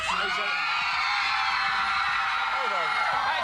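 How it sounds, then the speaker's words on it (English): A TV studio audience of 1996 screams in a loud, sustained, high-pitched roar that fills the whole stretch, with individual shrieks and whoops rising out of the crowd. "you lot, you scream at anything"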